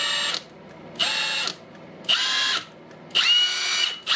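A Milwaukee M18 mid impact wrench, just back in working order after a Hall sensor replacement, runs free in four short bursts of high whirring motor whine. Each burst is loud and close, with near-silent pauses between, and nobody speaks.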